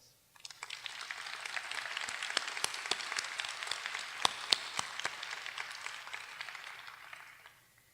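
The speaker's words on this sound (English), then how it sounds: "Please give them a much-deserved round of applause." An audience applauds at a college of medicine commencement ceremony, a dense patter of many hands clapping steadily, swelling in and tapering off, with a few sharper claps standing out.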